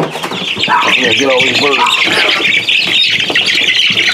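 Rhode Island Red hens squawk and cluck loudly and continuously at close range as they are caught, their agitated calls mixed with people talking over them.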